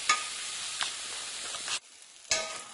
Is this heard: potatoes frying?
yes